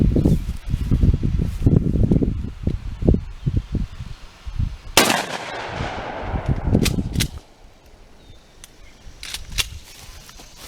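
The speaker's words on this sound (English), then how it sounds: "Final shot with the Shockwave, buckshot." A Mossberg Shockwave shotgun fires one loud, sharp blast of buckshot outdoors, followed by a short echoing tail, with rustling and small clicks before and after.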